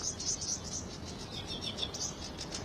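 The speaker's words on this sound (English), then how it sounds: "it's also full of birds singing and calling on their territories." Several birds chirp and call in quick, repeated high notes over a steady background hum of insects, fairly distant and outdoors in a marsh in Wales.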